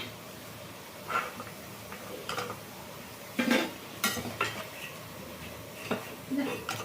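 Crispy fried tea-time snacks are lifted out of a frying pan with a utensil, making a few separate clinks, scrapes and light rustles spaced through the moment against a quiet kitchen background.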